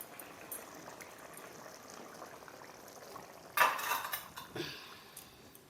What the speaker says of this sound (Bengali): এবার আমি বাটিতে ঢেলে নিচ্ছি।